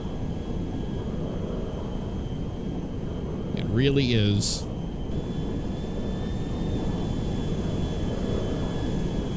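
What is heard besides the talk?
Airbus A310-300 jet airliner engines in the video game GTA 5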